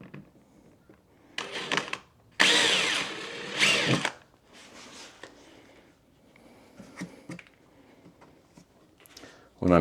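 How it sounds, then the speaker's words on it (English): A power drill bores small bolt holes in short bursts, its whine rising and falling over a few seconds, close by, with quiet handling noises and some talk between bursts. "I don't want water getting in through these little holes that I'm drilling"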